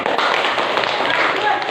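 A classroom of pupils bursts into applause, a dense, steady patter of clapping that carries on evenly for under two seconds with voices mixed in.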